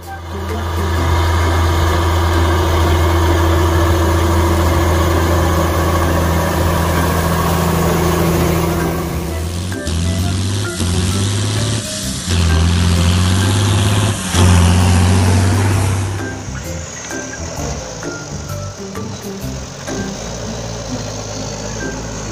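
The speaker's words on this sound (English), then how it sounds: "Tractor." A tractor engine idles with a steady low rumble and drone, loud and close, with some clunks and shifts in tone partway through before it settles back into a rougher idle.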